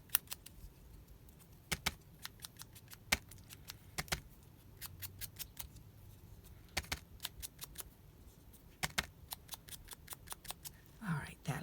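Sharp scissors snip paper while trimming a piece for a handmade window panel card, a string of crisp, close cuts in uneven quick bursts with brief pauses between them.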